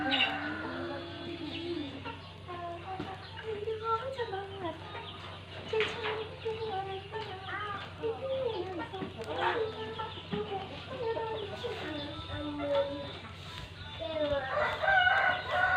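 Chickens cluck steadily in a rural yard while a rooster crows several times, the calls near and moderately loud over a constant low hum.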